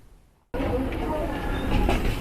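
A narrow gauge train on the West Lancs Light Railway rolls along steadily after a sudden start, a dense rumbling clatter of wheels on rails heard up close, with faint voices mixed in.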